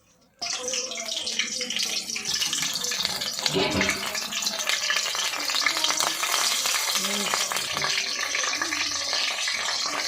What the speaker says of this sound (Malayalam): ഓരോ ചെമ്മീൻ്റെ പുറത്തും തേച്ച് നമ്മളിതുപോലെ ചട്ടിക്കകത്ത് വെച്ച് ഒന്ന് സെറ്റാക്കി എടുക്കാൻ കേട്ടോ